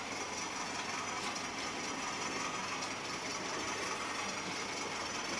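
Model locomotives, including a class 8F, a Terrier and a class 20, run around a home layout, giving a faint, steady whirring motor hum and track rumble with no speech.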